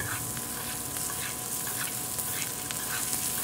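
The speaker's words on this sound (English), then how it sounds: "the steak in the foaming butter, and the foaming butter gets super hot" A steak sizzles hard in very hot foaming butter, a loud, continuous, close-up hiss and crackle with small spattering pops, and no voice over it.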